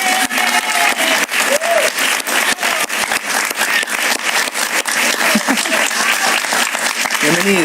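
Loud, sustained studio audience applause greets the guest, political activist Adriana Vigilanza, on a talk show: dense, continuous clapping with some crowd noise and faint voices mixed in.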